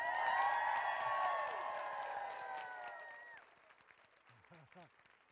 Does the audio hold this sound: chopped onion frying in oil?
no